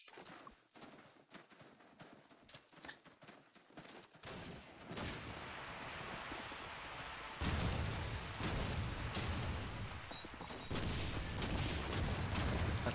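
Call of Duty 2 match on mp_burgundy, with rapid crackling gunfire first, then a dense roar of grenade blasts and sustained shooting that grows louder and rougher toward the end, heard without talk.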